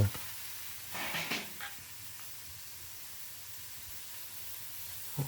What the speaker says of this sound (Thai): คนๆผัดในน้ำมันนะครับ